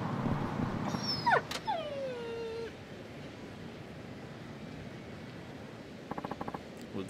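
A dog in the video game Yakuza 5 gives a few high, sliding whimpers and yips in quick succession over a steady city ambience, with a faint repeated tone later on.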